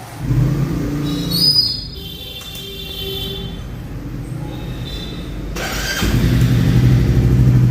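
A motorcycle engine is started and left running, a loud, steady mechanical rumble with a burst near the start, a brief dip, then the idle swelling louder toward the end; a faint bird chirp sits in the background.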